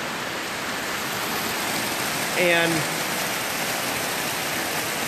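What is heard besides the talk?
outdoor fountain or waterfall splashing water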